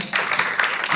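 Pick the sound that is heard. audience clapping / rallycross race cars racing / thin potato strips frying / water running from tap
audience clapping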